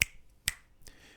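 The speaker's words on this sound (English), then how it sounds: "Finger snaps," Three sharp finger snaps in a quiet audiobook recording setup, spaced about half a second apart, close and crisp with nothing else around them.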